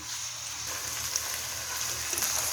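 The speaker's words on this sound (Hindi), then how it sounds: "इसको अच्छी तरह जो है अदरक लहसुन के पेस्ट के साथ भून रहे हैं" Chicken mince fries with ginger garlic paste in a pan, a steady soft sizzle with faint crackles throughout, close and unbroken, no voices.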